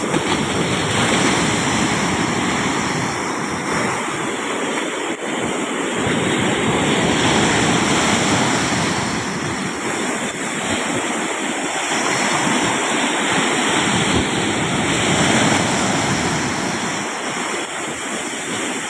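Strong sea current with heavy waves surging near boats, a loud, continuous roaring wash of surf and rushing water with wind, steady throughout.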